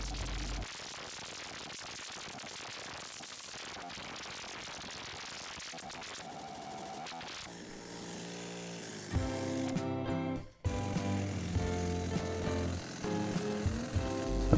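A Baumr-AG chainsaw being tested after a carburettor clean, a rough uneven engine running and revving in bursts, then louder pulsing as the chain brake is engaged, with sharp cutouts and restarts; no talking.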